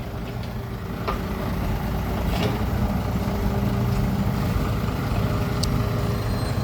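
A Kobelco SK35RS three-ton mini excavator runs steadily, its diesel engine a continuous low, rumbling drone with a few faint clanks over the top, parked on a trailer truck while it loads dirt onto a roadside shoulder.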